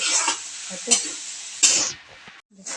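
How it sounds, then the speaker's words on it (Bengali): Leftover rice being stir-fried and turned in a pan for a quick pulao, loud hissing sizzle with several bursts as the spatula flips the grains, a brief drop to near silence before the frying resumes. "এটাকে আমরা ভালো করে ফ্রাই করে নেব ভালো করে পাল্টে পাল্টে কিছুক্ষণ একটু টাইম দিয়ে ওই ভাতটাকে ফ্রাই করে নেব"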